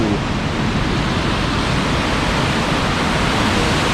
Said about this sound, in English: Oh, and there's the Falls of Measach,